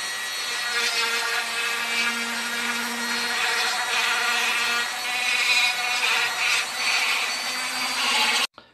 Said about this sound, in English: So I'll just go around with my little Dremel now on a sanding burr, just to tidy it up